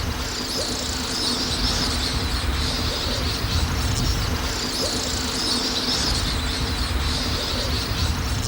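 Birds calling around shallow rain-fed lakes on the floor of the Rift Valley in Kenya, faint chirps over a constant outdoor hiss and wind-like background.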